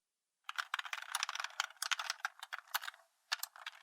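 Someone types a login form on a computer keyboard, producing quick, close, clattering keystrokes in uneven bursts with a brief pause before a final few taps.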